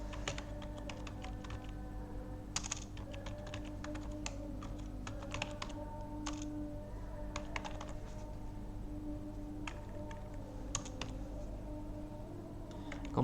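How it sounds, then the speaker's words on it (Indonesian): Someone types an email address on a computer keyboard, a run of light, irregular key clicks with brief pauses over a quiet steady hum, close and moderately soft. "Kemudian kita ketikkan lagi konfirmasi email."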